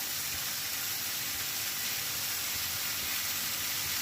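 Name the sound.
frying vegetables with ginger paste in pan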